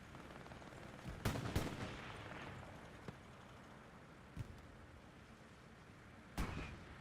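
Distant gunshots from the Hell Let Loose video game at Utah Beach, including a tank gun firing, sound as a few sharp isolated cracks over faint background battle ambience.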